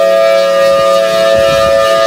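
A Thunderbolt 1000T civil defense siren sounds loud and close as a steady, piercing multi-tone howl that holds its pitch, with some low rumbling underneath.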